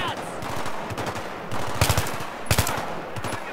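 Rapid machine gun fire rattles in the video game Battlefield 3, loud sustained bursts of evenly spaced shots with heavier crashing impacts between them.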